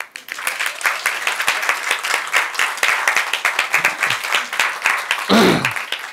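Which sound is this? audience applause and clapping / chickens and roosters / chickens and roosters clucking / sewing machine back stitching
audience applause and clapping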